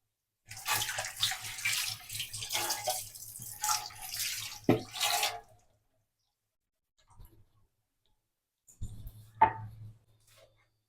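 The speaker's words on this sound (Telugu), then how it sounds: "ఇది కూడా 2-3 సార్లు కడిగేసి స్టెయినర్లో వేసేసానంటే వాటర్ మొత్తం పోయిద్ది" Water splashes and rushes for several seconds as washed sprouts drain in a strainer, then stops; a few faint drips and a brief final trickle follow after a pause.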